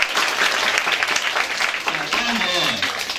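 A room of students at a Korean Military Academy information session claps for a senior cadet, a steady burst of applause with voices talking and calling out over it.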